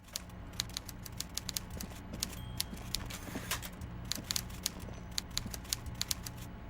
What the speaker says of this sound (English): Everard Clare clatters away on his typewriter, willfully indifferent to your presence